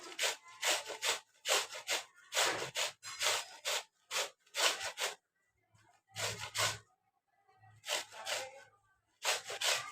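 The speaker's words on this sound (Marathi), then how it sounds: "आता मी सगळे आंबे असे किसून घेते" Raw green mangoes are grated into long shreds by hand, a rhythmic series of rasping scrapes in bursts with short pauses between strokes, close and clear.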